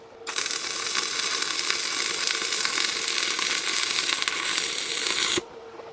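An arc welder at about 100 amps crackles and sizzles in a steady, harsh buzz for about five seconds, then cuts off abruptly.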